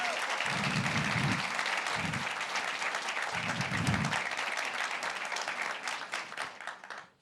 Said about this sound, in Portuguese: Uma salva de palmas para a Darisa, gente.